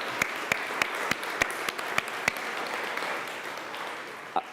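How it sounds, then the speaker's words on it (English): At a tech gathering, an audience applauds the organizers with a soft, continuous wash of clapping, punctuated by a series of sharp, evenly spaced claps close by at the start and one more near the end. "So really a huge round of applause for all of the people that worked on putting this together"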